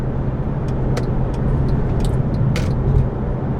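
A Mercedes C63 AMG with a 6.2 litre naturally aspirated V8 cruising on the road, a constant low engine drone mixed with road and cabin noise, fairly steady with faint clicks, no voices.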